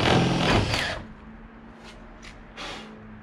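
A power drill drives self-tapping screws into a Rocket Bunny spoiler on a car, a loud burst of whirring followed by a steady faint motor hum and a couple of short, quieter bursts.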